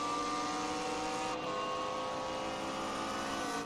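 GT3 race car engine at Watkins Glen in iRacing, howling at steady high revs with a brief dip as the throttle is partly lifted, then pulling on, loud and continuous with no talk.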